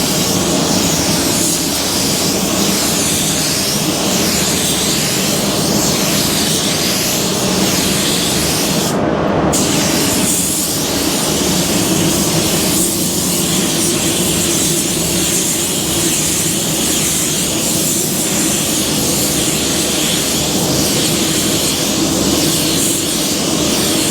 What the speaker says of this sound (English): I'm pretty happy with this spray gun.